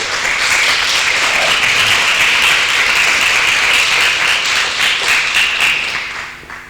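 A church congregation applauds loudly and steadily for several seconds, with the clapping tapering off toward the end.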